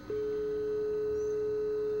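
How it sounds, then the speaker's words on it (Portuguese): Steady telephone line tone from a cordless phone under repair, played through a small test amplifier: one continuous, even hum-like pitch that starts abruptly and holds alone. "Vocês estão vendo o barulho da linha?"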